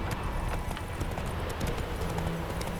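Roach the horse gallops in The Witcher 3 video game, hooves clip-clopping in a quick, steady rhythm that stays loud and close throughout, with no talking.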